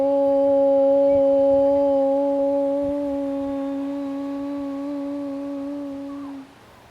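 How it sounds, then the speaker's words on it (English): A single voice chants a long sustained Om to open a yoga practice, holding a steady, resonant tone for about six seconds before it fades out. "We'll initiate the space with the sound Om."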